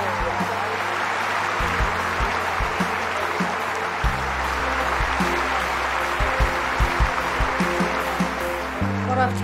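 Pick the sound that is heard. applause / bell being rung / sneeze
applause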